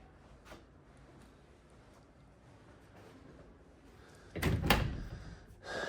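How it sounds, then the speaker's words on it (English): Quiet room tone, then a pair of wooden double closet doors in a modular home bedroom bump and rattle open near the end, close and fairly loud. "Double doors into this closet"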